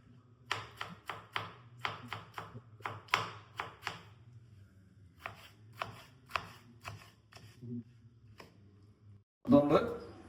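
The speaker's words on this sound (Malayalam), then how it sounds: "അടുത്ത് നമ്മൾ ചോപ്പ് ചെയ്യാൻ പോണത് ടൊമാറ്റോ, തക്കാളിയും അതുമാതിരി തന്നെ വളരെ ചെറുതായിട്ട് വേണം സ്ലൈസ് ചെയ്യാൻ" A knife chops tomatoes finely on a cutting board, fast rhythmic taps in quick runs with brief pauses over a low hum, ending with a louder clatter.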